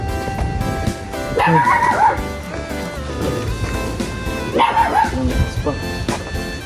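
Dogs bark and yip in bursts, a couple of close, loud outbursts with whimpering tones, mixed with people talking nearby.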